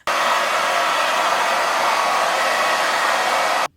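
Hair dryer fitted with a diffuser, drying curly hair: a loud, steady whooshing blast that runs constantly for several seconds and then cuts off abruptly, heard alone.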